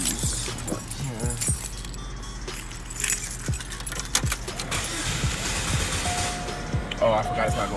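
Car keys jangle in short metallic bursts close by, beside a 2005 Chevy Cobalt during an A/C compressor replacement, with someone talking over the rattling.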